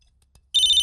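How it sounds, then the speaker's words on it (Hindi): A telephone ringtone starts abruptly and trills loudly and steadily after a moment of near silence. "भाई का फोन है"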